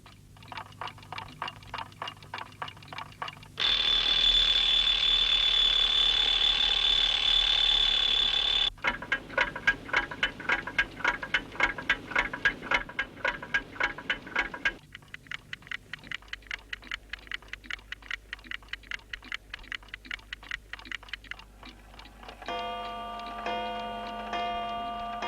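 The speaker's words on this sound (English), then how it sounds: "All the clocks here are saying a different time, and some can't even tick properly." Many clocks in a clock shop tick in turn, with steady mechanical ticking at varying speeds and a high ringing tone in one stretch. Some clocks tick unevenly, and no one speaks.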